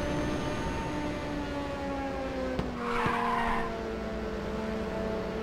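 Tires squeal in a long, sustained skid as a car drifts in the racing game Ridge Racer 2, a steady tonal screech over engine whine, with a brief burst of extra noise midway.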